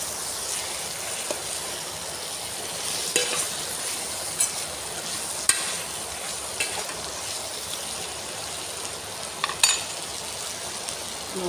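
Carrot and potato are stirred into a rice cooker, giving a soft steady sizzle with occasional light scrapes and taps of a spoon against the pot.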